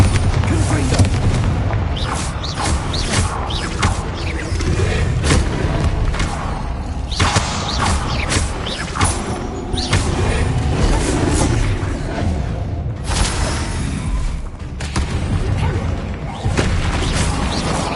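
Spell blasts and explosive booms from combat in the video game Hogwarts Legacy on PS5, loud repeated impacts and crashes layered over game music and effects, with a voice casting spells throughout.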